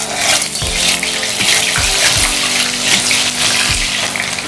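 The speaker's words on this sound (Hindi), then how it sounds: "तो गोभी को डीप फ्राई कर लेते हैं।" Cauliflower florets deep frying in a kadai of oil over a medium flame give off a loud, continuous bubbling hiss, broken by a few low thumps, with no talking.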